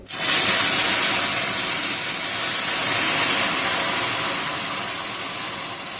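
Water in a pan boils with a steady, loud hiss and rumble, an even, bubbling roar that holds constant throughout, with no voices.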